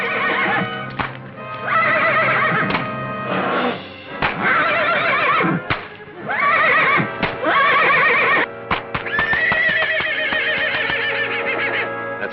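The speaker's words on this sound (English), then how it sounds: "top bucking horse of the rodeo" A bucking rodeo horse neighs and whinnies repeatedly, loud shrill calls in bursts close at hand, with hoof clatter and thumps between them.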